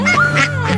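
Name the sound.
duck quacking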